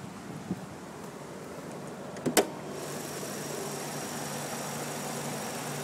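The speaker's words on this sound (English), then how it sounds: "See how quiet the engine is." A 2000 Mazda RX-7 FD3S Type R-B's rotary engine idles quietly and steadily as a faint low hum, with a couple of brief clicks partway through and no talking.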